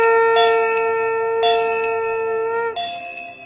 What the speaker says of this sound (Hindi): घंटियां गूंजती